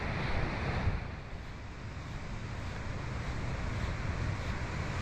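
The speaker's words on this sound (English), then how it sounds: "The waves crashing against them." Ocean waves surge and wash against rock formations off a beach, a broad continuous roar with wind buffeting the microphone, no voices.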